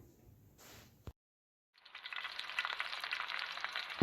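Four or five curry leaves hit hot oil in a wok, erupting into a close, crackling sizzle after a short silence and continuing steadily with sharp pops.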